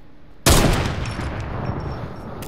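A sudden loud blast of gunfire in Fortnite, with a sharp onset followed by a long, noisy, reverberant decay, and no voices.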